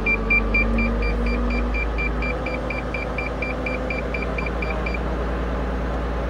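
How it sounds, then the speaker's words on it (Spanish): A steady series of beeps, roughly eight per second, sounds for about five seconds from a warning buzzer in the cab of a Komatsu motor grader. It is heard over the low, continuous rumble of the running engine and ends before the clip does. "¿Qué era ese pito?"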